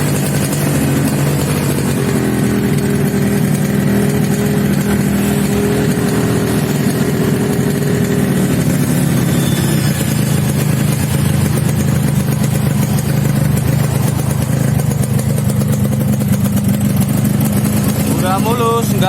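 A Yamaha RX-King two-stroke motorcycle engine runs steadily with a rough, rattly idle during servicing for a harsh-sounding engine, loud and close throughout with someone talking over it.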